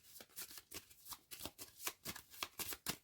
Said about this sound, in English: Deck has run out, so we shuffle.